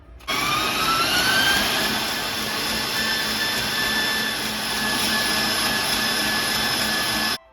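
An electric mixer whips eggs for a vanilla meringue cake, a loud, steady whirring drone with a high whine that starts abruptly, holds evenly for about seven seconds and cuts off.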